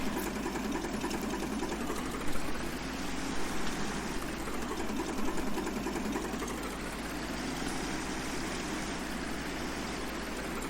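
A John Deere tractor engine in Farming Simulator 19 drones steadily and close, a dense, even mechanical hum with a faint rattling buzz that holds without a break.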